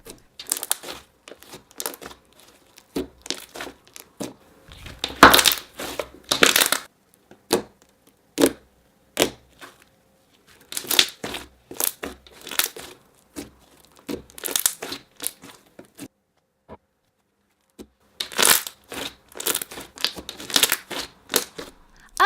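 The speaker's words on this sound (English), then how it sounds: "It was really fun for poking, and it had the most amazing bubble pops" Thick, clicky cookies and cream slime is poked and squished in bursts of crisp crackles and sharp little bubble pops, close and loud, separated by short quiet pauses.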